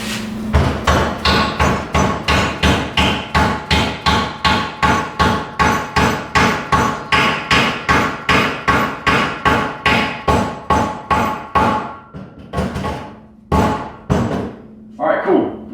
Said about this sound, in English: light little taps with a sand hammer or a dead blow hammer